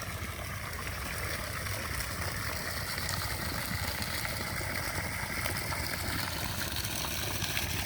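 Water pumped by an engine-driven pump into a rice paddy field, a steady loud rushing flow over a continuous low motor drone, unbroken throughout with no talking.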